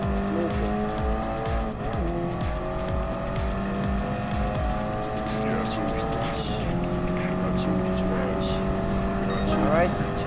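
A race car in the video game Gran Turismo Sport holds a loud, steady engine whine that shifts pitch through gear changes, with tires squealing in corners and a voice talking over it.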